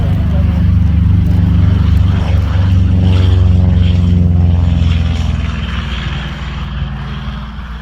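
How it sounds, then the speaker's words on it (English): A Chinook helicopter repositions at the RAF Cosford Airshow, a loud, close, throbbing rotor drone that holds steady and then slowly fades, with no talk over it. "the Chinook repositions to enable the two American fighters to head on their way"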